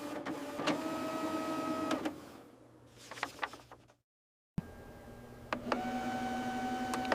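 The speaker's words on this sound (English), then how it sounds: "Finally, print a test page." An Epson WorkForce WF-4830 inkjet printer runs a test page: steady mechanical whirring with tonal motor whines, a quieter stretch of clicks and clunks, a brief silence, then the whirring resumes close and loud.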